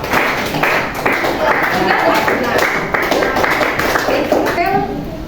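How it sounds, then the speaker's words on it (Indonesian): Children in a classroom clap for a group, steady loud applause running throughout with young voices chattering underneath. "Tepuk tangan untuk kelompok."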